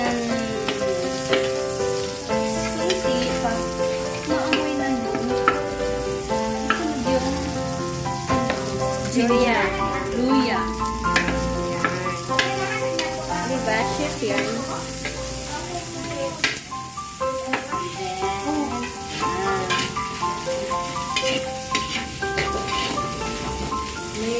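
Chopped onions sizzle in a hot pan while a Filipino mung bean dish is being cooked, a steady, close frying hiss running throughout beneath tuneful background music.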